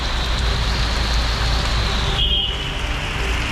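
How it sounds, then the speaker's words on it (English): Heavy rain pours down in Mexico, a dense, steady roaring hiss that stays loud and close without a break, with no voices. "it's dumping rain"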